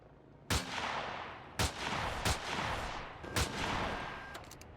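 Four sharp sniper rifle shots in Empyrion Galactic Survival ring out at uneven intervals, each loud crack trailing off into a rumbling game backdrop.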